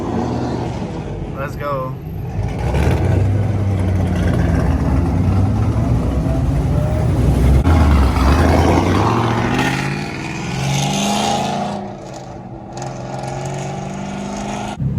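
At a street takeover, a Chevrolet Camaro's engine rumbles and swells as it approaches and passes, its deep drone rising and fading under crowd noise and excited voices.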